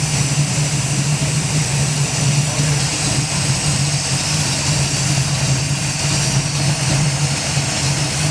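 A 1967 Pontiac Firebird convertible with a non-charging alternator runs at a steady idle. Its loud, even engine drone and low hum hold unchanged throughout, close to the listener.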